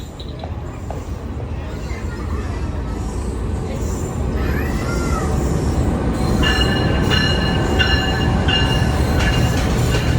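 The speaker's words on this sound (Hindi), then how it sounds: "और ट्रेन हमारे सामने से आ रही है इस वक्त GU20 के साथ" The Khushal Khan Khattak Express, led by a GU20 locomotive, approaches on the Karachi–Peshawar line with a loud steady rumble. High wheel squeal and faint clatter build over it.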